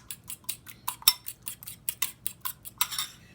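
Metal cutlery clinks and scrapes against a bowl in a quick, regular rhythm of about a dozen strokes as seasoned eggs are mixed, close and fairly clear.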